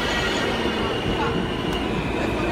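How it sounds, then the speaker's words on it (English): An R160A and R160B subway train approaching Prospect Park station: a loud, steady rumble of wheels on rail with a faint squeal, close and continuous, no talking. "here's the R160A and R160BQ train approaching Prospect Park."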